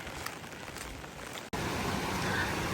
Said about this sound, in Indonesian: Nah kalau di sini sekarang itu hujannya tuh benar-benar gak berhenti, hujan terus